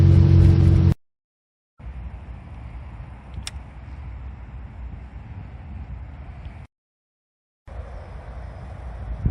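A 1968 MG Midget Mark III with a 4-speed gearbox cruises at about 45 mph, its engine and road noise a steady, fairly loud drone with wind rush, broken by two short silent gaps.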